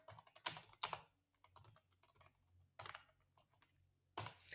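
Close-up typing on a computer keyboard while entering C code, with clustered bursts of crisp clicks broken by brief pauses and no talking.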